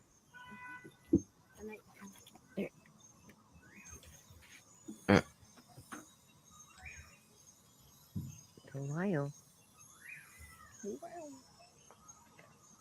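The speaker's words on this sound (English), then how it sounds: "You hear that bird? They call it the tawayo. It's actually a type of poto." Sparse forest ambience with scattered distant bird calls and chirps, a few louder tonal calls from a potoo rising above quiet background insects, and a brief spoken word.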